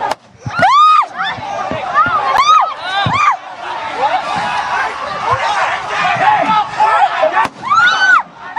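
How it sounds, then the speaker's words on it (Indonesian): Sharp firecracker bangs go off repeatedly amid a noisy crowd of protesters, with people shouting and reacting; loud blasts at the start and end, a steady din between. "ada beberapa suara dari kembang api yang dilemparkan ke arah massa aksi demonstrasi"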